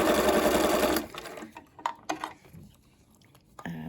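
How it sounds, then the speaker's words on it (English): Sewing machine with a topstitch needle stitching small circular shapes on a water-soluble stabilizer base, a dense steady whir for about a second, then stopping to leave only quiet, sparse handling clicks and taps. "I'm just going to stitch some little circly shapes just to anchor it down"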